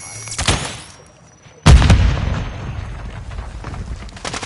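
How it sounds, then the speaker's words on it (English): A flash grenade bursts in a video game with one sudden loud blast near the middle, and a sustained noisy roar trails after it. A brief sharp sound comes earlier. "Throwing flash grenade!"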